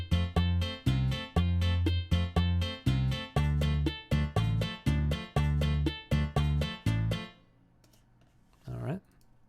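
Bachata chord variations moving from the 1 chord to the 6th chord, played as a rapid series of punchy, evenly spaced plucked chords with deep bass, then a brief pause and a short sound.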